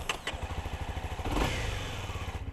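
A 2018 Honda CB300R motorcycle engine cranks and catches, settling into a close, rapid, even putter with a brief swell as it fires.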